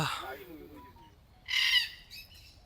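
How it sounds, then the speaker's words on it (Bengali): A cockatoo gives a short, harsh squawk partway through, preceded by faint background voices and ambient noise. "কাকাতুয়া।"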